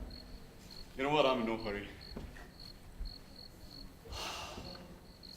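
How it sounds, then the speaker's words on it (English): Crickets chirp on an August night around midnight in a steady, pulsing, high trill that carries through the whole scene, while someone speaks briefly over it and quieter movement noises come and go. "crickets, they're out in full force singing their famous symphony"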